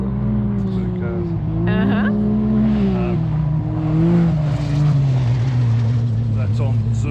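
Race cars lap a track in Alice Springs, their engines droning and rising in pitch as they pass at moderate distance, with people talking over the steady motor noise.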